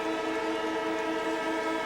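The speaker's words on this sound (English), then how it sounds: "And there's the siren" A loud, sustained siren signals half-time at a 1987 VFL football match between Collingwood and the Brisbane Bears, holding a steady, even tone throughout the brief moment.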